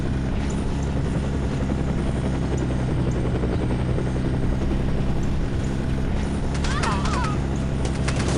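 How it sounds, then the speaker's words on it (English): An attack helicopter in the shooter game No One Lives Forever throbs loudly and steadily throughout, with a cluster of sharp crackling bursts late on. "You have a helicopter firing at you."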